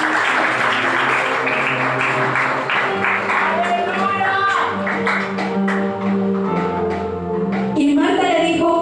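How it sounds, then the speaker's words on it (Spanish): A church congregation applauds during a Spanish-language sermon, steady clapping that blends with music and voices throughout, loud and continuous. "Dale un aplauso."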